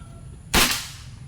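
A single sharp airgun shot fired at a target cracks once, close and abrupt, then decays quickly against a quiet background.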